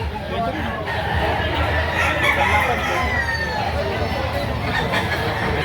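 Bull stag gamecock roosters at a busy poultry market, crowing and clucking among the birds under constant crowd babble, with people talking nearby throughout.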